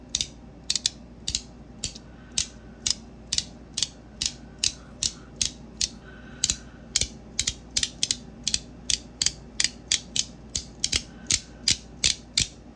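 A hand-crank flashlight's gear mechanism clicks steadily and rapidly, a long run of evenly spaced ratcheting ticks, close and fairly quiet, with no voices.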